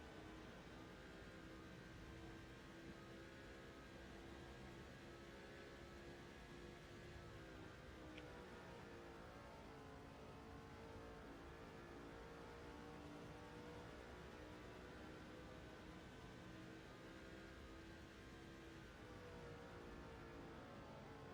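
Race cars roar around the track in the NASCAR 07 video game at Pocono, a faint, continuous engine drone whose pitch rises and falls smoothly with no talk over it.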